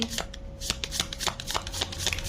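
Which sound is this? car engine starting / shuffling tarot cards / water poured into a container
shuffling tarot cards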